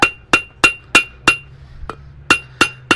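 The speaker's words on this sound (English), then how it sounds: "use the flat of the hammer to clean it all up" Blacksmith's hammer ringing on hot metal at a forging demonstration, the flat face smoothing a leaf shape: nine sharp, close metallic strikes in a steady rhythm with a short pause midway, no talking.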